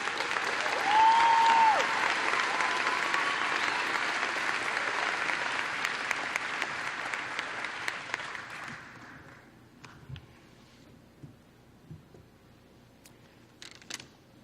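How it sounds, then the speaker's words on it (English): Audience at a 2016 school commencement ceremony stands and applauds a retiring teacher, a broad, sustained wash of clapping for about nine seconds that gradually fades, leaving scattered faint claps and room noise. "Mr. Mosier, would you please stand and let us applaud you for this"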